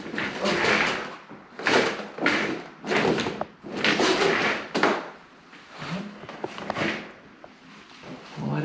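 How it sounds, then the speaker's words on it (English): Window blinds being opened in a house room with large picture windows, giving a run of loud rattling, sliding bursts in quick succession, close by with no talk. "Let's go ahead and open up some of these blinds."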